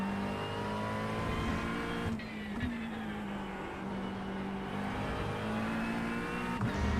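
Sustained race car engine note under load in the iRacing sim during an IMSA endurance race at Sebring, a steady harmonic drone with pitch rising and dipping through gear changes, loud and close throughout with no talking.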